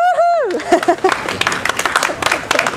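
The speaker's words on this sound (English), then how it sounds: "How embarrassing, stop clapping." A live audience bursts into lively clapping right after a brief shouted cheer, the applause rising quickly and continuing as a dense, crackling patter to the end.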